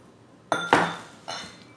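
Utensils knock and clink against a bowl while flour is mixed for homemade Filipino star bread, three sharp metallic taps spaced apart, close and fairly faint with no talking.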